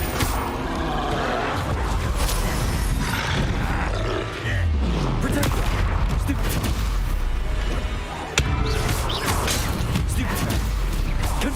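Spells cast in Hogwarts Legacy, including Confringo, Bombarda and Incendio, burst out as loud roaring blasts and crackling impacts in quick succession, with a brief dip partway through and a voice speaking among the effects.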